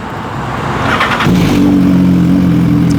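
A motorcycle fitted with an aftermarket titanium exhaust starts revving about a second in, then settles into a loud, steady, close-up drone with a deep tone.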